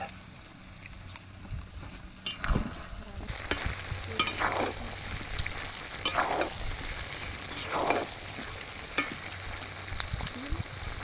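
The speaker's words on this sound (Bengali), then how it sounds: "এবার স্বাদ মতো লবণ দিয়ে দেব দিয়ে আর দু মিনিট কষিয়ে জল ঢেলে দেব" Country chicken being stir-fried in a pan with salt, giving a continuous close sizzle broken by repeated spatula scrapes and stirring knocks.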